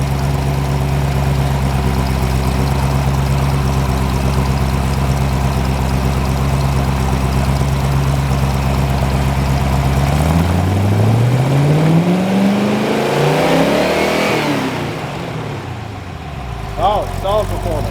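A Chrysler 318 stroker V8 idles steadily with no load on it, then revs up with a rising, loud roar and settles back, heard close by.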